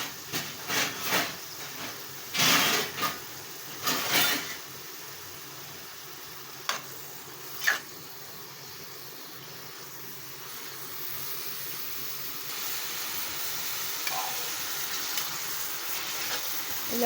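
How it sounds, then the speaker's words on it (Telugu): Mushrooms lightly frying in a pan for curry give a soft, continuous sizzle and hiss, with a few louder clatters of stirring early on and fainter occasional knocks later. "కాబట్టి మనం లైట్గా వేయించుకోవాలి"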